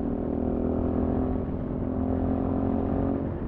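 A 2020 Sinnis Terrain 125 motorcycle engine pulling in fourth gear at around 4,500 rpm, a steady loud buzzing drone with a low hum, heard from the rider's position without talking.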